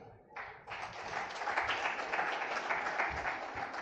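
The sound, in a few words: audience applause at a conference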